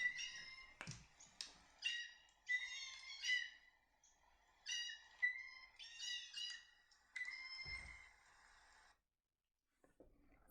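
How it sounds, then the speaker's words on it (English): Recorded blue jay calls, a series of harsh, loud squawking cries in uneven bursts with short gaps, heard alone and clearly. "I found a recording of a blue jay"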